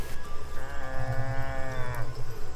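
Cattle lowing in a rural Bhutanese setting: a single long, sustained moo rising and then fading, fairly close and clear over a low steady background hum, with no talking.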